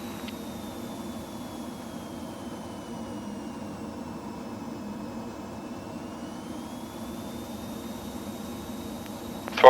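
BAE Hawk jet engine in Microsoft Flight Simulator, flown low through the Lake District, a steady close cockpit roar with broadband hiss and a faint whistling tone that slowly dips and rises, unbroken throughout with a brief bump at the end.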